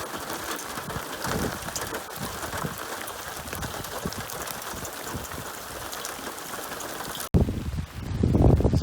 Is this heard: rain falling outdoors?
yes